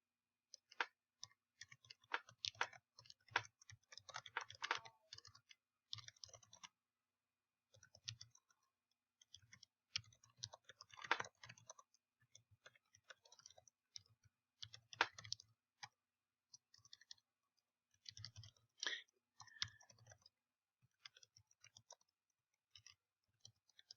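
Someone types on a computer keyboard into a blank word processor, the quiet, close key clicks coming in uneven bursts with short pauses between them.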